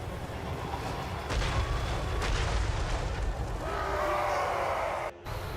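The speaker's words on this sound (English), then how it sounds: "the Blood Knights are going to start being hit by my artillery" Dreadquake mortar artillery in Total War: Warhammer 3 booms in heavy, rumbling blasts that swell and roll together over several seconds, with a dense low-end roar and a brief cut near the end.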